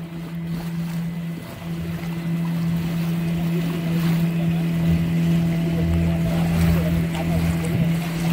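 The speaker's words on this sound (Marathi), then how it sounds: "ही जी व्हाईट बोट आहे ही स्कुबा डायव्हिंगची." A white scuba-diving boat out on the sea near Nivti lighthouse drones with a continuous, loud engine hum and water rush that stays steady throughout.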